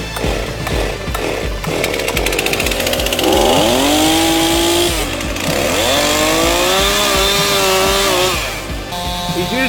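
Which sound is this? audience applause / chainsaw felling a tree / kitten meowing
chainsaw felling a tree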